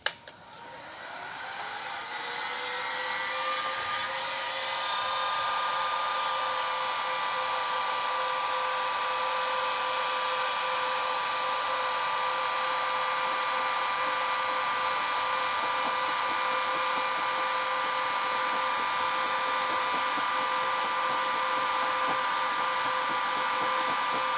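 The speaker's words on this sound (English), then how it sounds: "Lots of videos out there where people have used a heat gun to remove these stickers." A heat gun runs continuously while stripping stickers off the roof of a 2006 Niagara RV, spinning up over the first few seconds to a loud, steady whining blow with a constant tonal hum and no speech.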